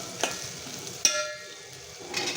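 Turmeric and spices fry in hot oil for an okra curry, a soft continuous sizzle with a few sharp clinks of a spoon against the pan, quiet and close.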